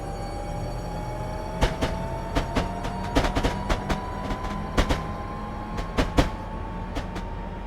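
Train rolling along in Train Simulator 2015 on the Faversham to St Pancras route, a steady cab rumble with a rising tonal whine and sharp rhythmic clicks of wheels over rail joints.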